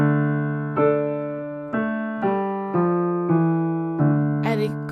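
Sustained pitched tones in the second half of the beginner piece Forest Drums, each struck then left to ring and fade, about six evenly spaced hits with a brief bright rattle near the end, close and clear with no talk.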